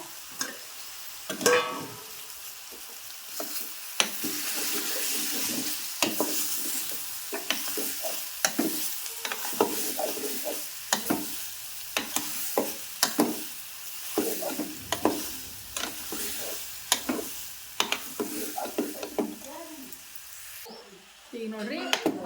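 Food frying in hot oil after a turmeric, chilli powder and salt coating, with broadband sizzle and repeated stirring clatters throughout, a voice talking intermittently over it, ending briefly quieter.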